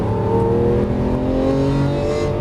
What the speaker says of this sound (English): Squeeze the power in over to the right. Full throttle. Go.